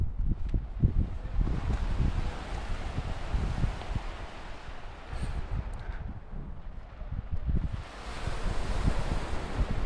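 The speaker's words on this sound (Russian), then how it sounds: "тут прям такое море" Sea surf and gusty wind on the shore at Kobuleti, Georgia, by a seaside park: continuous rumbling waves with bursts of wind buffeting the microphone, fairly close and loud, no talk.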